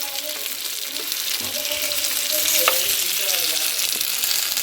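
Masala-coated fish pieces fry in a pan, giving a dense, continuous sizzle that grows slightly louder midway, heard up close and steady, with faint background hums and no clear speech.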